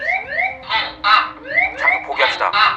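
The minimums warning alert sounds in the cockpit of the Korean Air Flight 801 Boeing 747 on approach to Guam: loud, repeating warbling electronic tones with rising sweeps and pulsing bursts, over a steady low cockpit hum.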